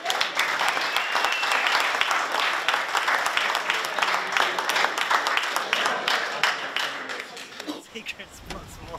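A crowd at a competition gives sustained, dense applause for Shane, steady and loud for most of the stretch before it thins out near the end.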